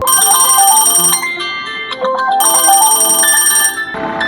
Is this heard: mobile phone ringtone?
yes